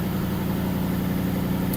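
An Aston Martin engine idles on a cold start, a low, even rumble with a steady throb, heard close and alone for a brief moment.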